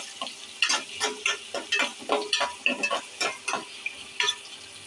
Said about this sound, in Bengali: পেঁয়াজটা কষা নিব